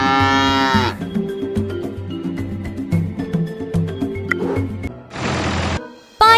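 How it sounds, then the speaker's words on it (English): A cow moos loudly in a farm animals video game, with long lowing calls at the start and end over a bouncy, cheerful music loop playing throughout. "I can milk the cow now."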